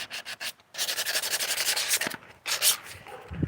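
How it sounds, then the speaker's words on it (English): Hand sanding of a gooseneck gourd makes close, scratchy rubbing strokes in a steady back-and-forth rhythm, with a short pause partway through. "At least get it sanded."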